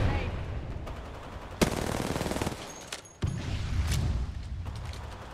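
Gunfire rattles in Apex Legends in rapid automatic bursts with sharp individual shots, loud and close, broken by short pauses within a busy game mix.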